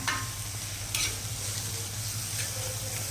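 Onion frying over full heat and being stirred in a pan, a dense close sizzle broken by brisk scraping and clinking of the spoon, with no voices.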